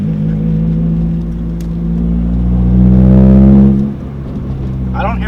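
A 1997 Honda Civic coupe with a five-speed and a performance header-back exhaust revs up, its loud droning rumble swelling to a peak and then dropping back, while a person talks over it.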